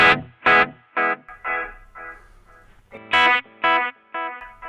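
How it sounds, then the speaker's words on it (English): A clean electric guitar plays short phrases through a dotted-eighth tape-style delay with many repeats, each note trailing off in spaced, fading echo repeats. "So it's kind of tape delay with a fairly long number of repeats."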